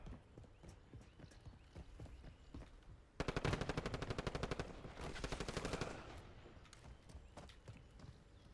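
Rapid automatic gunfire from a video game rattles out in one loud, sustained burst lasting a couple of seconds, set against quieter ongoing game ambience before and after.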